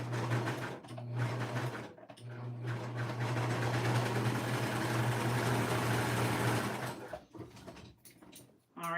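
A serger sewing machine stitches over the start of its own seam, a steady loud mechanical whir with a strong low hum, running in two bursts with a short pause between and stopping near the end.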